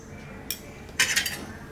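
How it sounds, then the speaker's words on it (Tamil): A metal cooking pot for aval payasam, a poha milk pudding, is set onto a stove, giving two sharp metallic clanks close by, the second louder and ringing briefly. "அடுப்பில் பாயாசம் வைக்கிறதுக்கு ஒரு பாத்திரம் வச்சுக்கிறேன்."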